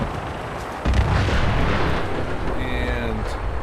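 Vertibird gunfire in a Fallout 4 battle comes as a loud, dense rumble of shots and blasts, heavy throughout with a sharp onset near the start.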